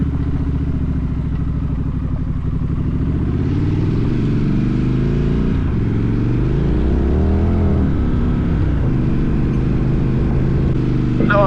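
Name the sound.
Scrambler motorcycle climbing a mountain dirt road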